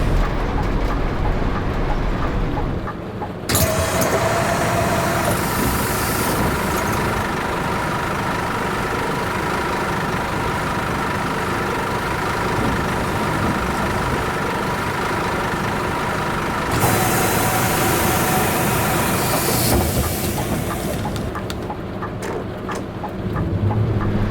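A city bus in The Bus simulator, its diesel engine droning steadily at a low rumble for a long stretch, with cabin hum and faint interior ticks and no speech.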